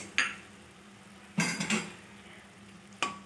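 Fried long beans are stirred into a simmering curry in a metal pot. Three separate clanks of a spoon against the pot sound over a faint bubbling background.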